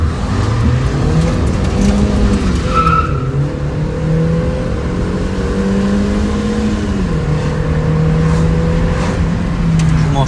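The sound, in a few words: Chevrolet Gentra 1.5L automatic car accelerating hard, tires squealing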